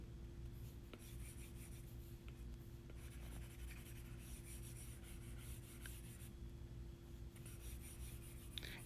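Pencil coloring in a seastar drawing, a faint continuous scratchy rubbing of graphite on paper in short back-and-forth strokes, close up with a low steady hum behind and no talk.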